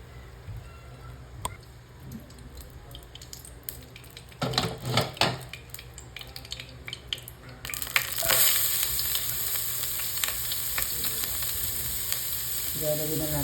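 Cooking oil frying in a pan for Filipino menudo, a quiet sizzle that swells into a louder, steady crackling hiss partway through, with brief clinks of utensils against the pan.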